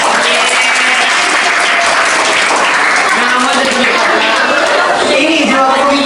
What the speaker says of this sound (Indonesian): Oke, tepuk tangan buat kipas.